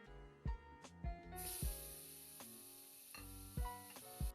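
A burger patty cooks in a pan, its steady bright frying hiss starting suddenly and carrying on beneath louder background music with thumping beats.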